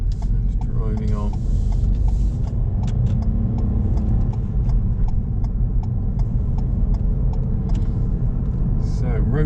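A car drives on through Southampton roundabouts near Nursling, Millbrook and Lordshill, its low, steady cabin engine rumble running under continuous talk from an instructor.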